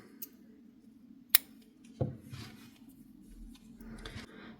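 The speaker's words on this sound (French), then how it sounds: "Et je vais couper le fil." Scissors snip through crochet yarn while a Christmas elf amigurumi is being made: two short, crisp cuts close by over a low, steady background hum.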